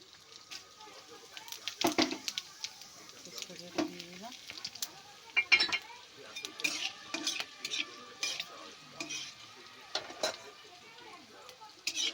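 Dried red chillies, whole garam masala, cumin and bay leaf fry in hot oil in a kadai, a low sizzle under repeated clinks and scrapes of a spoon against the pan, with intermittent talking.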